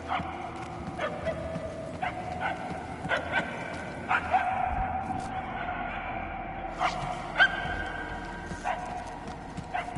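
A dog barks repeatedly at a steady pace, each bark sharp and fairly close, over a constant background of outdoor noise.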